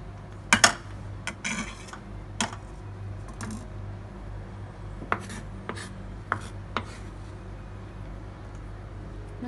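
Knife chopping mushrooms on a board for garlic butter mushrooms, a few sharp clustered cuts early on followed by sparse single chops over a steady low kitchen hum, close and fairly distinct.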